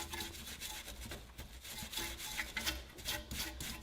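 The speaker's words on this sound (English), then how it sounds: "Now if yours is rusty, get the brush on there" A brush scrubs rust off a rear wheel bearing part of a 2016+ ND Miata in quick, rough back-and-forth strokes. The scraping is close and continuous, with no talk.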